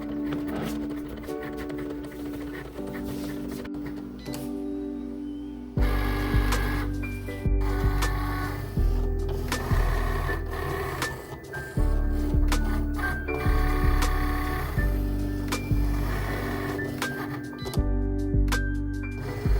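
A Cricut cutting machine cuts paper flowers with motorized whirring, ticking carriage moves and repeated chunky pulses, close and continuous, while music plays underneath.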